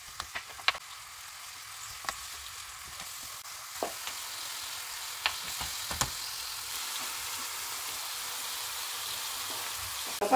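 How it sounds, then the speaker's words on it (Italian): A small piece of meat sizzles steadily in a frying pan with oil, a soft continuous hiss broken by occasional knocks and scrapes of a utensil stirring. "E si mette a soffriggere."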